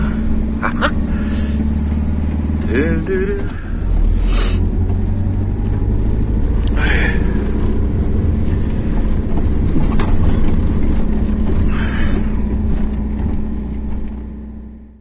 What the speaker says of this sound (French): ça patine là